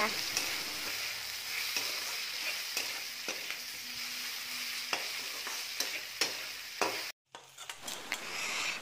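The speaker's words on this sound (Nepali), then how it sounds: "स्वाद अनुसार नुन हालेर आलुलाई मजाले भुट्नुपर्छ" Potatoes frying with salt and gram flour in a pan for fiddlehead fern saag give a steady close sizzle, broken by repeated scraping clicks of a spatula stirring, with a brief silent gap near the end before frying resumes.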